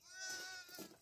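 A young lamb wrapped in a blanket gives one short, thin bleat up close, fairly faint, with a little background murmur.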